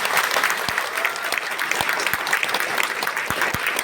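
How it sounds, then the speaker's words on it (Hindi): Loud, steady applause from an audience at a Vestige marketing business meeting, honouring company figure Mr. Siddharth Singh, with a continuous wash of clapping and a few heavier thumps throughout. "मैं चाहूंगा जोरदार ताली उनके लिए होना चाहिए"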